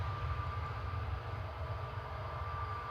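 A Jet2 Airbus A321neo departing Manchester Airport gives a steady, low, distant roar with a faint whine, rumbling evenly throughout with no voices.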